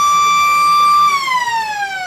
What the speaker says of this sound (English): So 24 minutes it was, and the siren has gone.